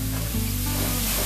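Grated beet fries with spices in a hot pan, a dense, steady sizzle that fills the whole short stretch, loud and close with no voices.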